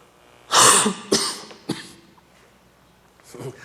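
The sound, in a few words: coughing into microphone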